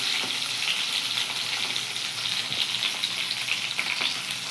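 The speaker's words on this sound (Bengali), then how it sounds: "এখানে বেগুনগুলো ভেজে নিচ্ছি" Eggplant slices fry in hot oil for a vegetarian begun bahar dish, giving a steady, close sizzle with light crackles and no talking.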